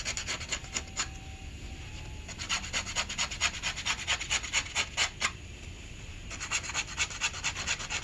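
A knife blade scrapes repeatedly across leather to roughen it for gluing while handmaking sneakers, quick rhythmic strokes, close up, with a faint steady hum underneath and a brief pause midway.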